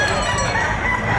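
A rooster crows loudly and close by amid clucking fowl at a chicken market in Batangas, a brief burst over background bustle.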